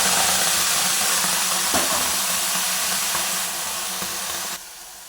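Steady broadband hiss from a lit gas stove burner under a kadai in a home kitchen while a tomato pickle is prepared, continuous and fairly loud, tapering slightly before dropping away at the end.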